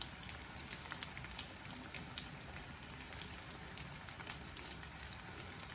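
Crispy tofu fries in hot oil with a soft, continuous crackle and scattered sharper pops. It is faint and steady throughout.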